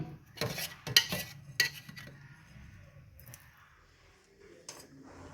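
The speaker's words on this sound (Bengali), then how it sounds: "দেখুন ভালোভাবে গুলিয়ে নিয়েছি।" Rice batter for ashke pitha stirred in a bowl, a few sharp scraping clatters of a utensil against the vessel early on, then quieter intermittent stirring and faint clinks, with no talking.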